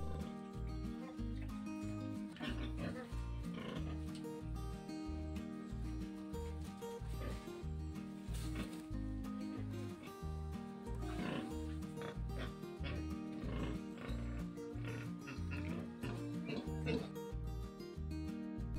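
A mother pig in heat grunts and oinks in a quick, steady rhythm of low pulses, mixed with other farm noise and a busy, loud background that runs throughout.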